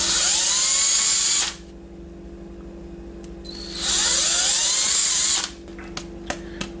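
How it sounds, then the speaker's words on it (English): A high-pitched power drill with a small bit whines through a plastic mask in two bursts of about a second and a half each, separated by a quieter pause, ending with a few short clicks. "we can take our small drill bit and just start punching them through"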